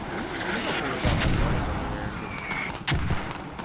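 Mortar rounds in a tactical shooter game, several heavy booming impacts and firing thumps spaced irregularly over a hissing background, fairly loud.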